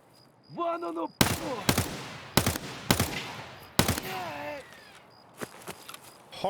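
Gunfire in the video game Escape from Tarkov, several sharp, loud single shots and short bursts spaced across the clip, with voices and faint footsteps between them.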